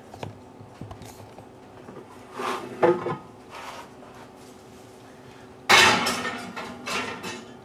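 A roast goes into a home oven preheated to 425 degrees: a few clunks and knocks of the pan and rack, then a loud rush of sound as the door is handled, close and alone with no talk.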